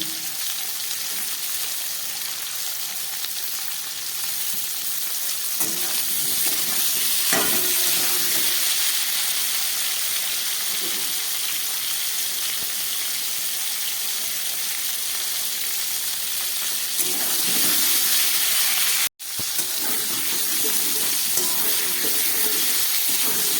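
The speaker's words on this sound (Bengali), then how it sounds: "ফুলকপি আলুটা অনেকটা ভাজা হয়ে গেছে" Cauliflower and potatoes fry in a pan with salt added, giving a steady close sizzle and hiss with occasional stirring scrapes, with no talk over it.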